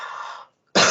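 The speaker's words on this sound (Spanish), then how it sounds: "Perdón que toso porque es que acabo de pasar una gripe enorme y no me sale no toser" A woman recovering from a heavy flu coughs twice in quick succession, the first cough moderate and the second sharper and louder, with a brief pause between.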